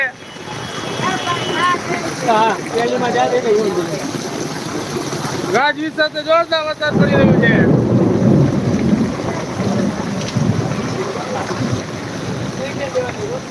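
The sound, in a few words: heavy rain and thunder in Khambhalia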